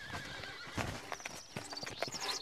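A horse in an animated fairy-tale scene gives a loud, close whinny over a quick run of clip-clopping hooves, the neighing and hoof beats filling the short moment with no talking.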